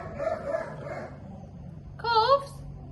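A dog gives a couple of muffled, fairly faint barks in a quiet room, a longer one at first and a short, sharper yelp a moment later.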